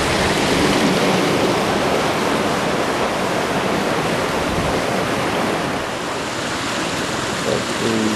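Water rushes steadily through the Enoggera Creek culvert in a loud, continuous broadband roar with no breaks, heard alone without any voices.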